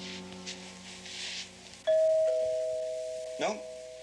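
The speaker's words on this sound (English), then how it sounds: "The doorbell broken?" A doorbell rings at a house, a loud sustained electronic tone that cuts in sharply and slowly fades, with a second brief chime near the end over quiet room sound.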